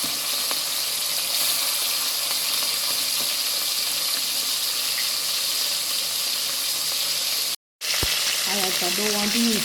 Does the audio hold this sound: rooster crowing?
no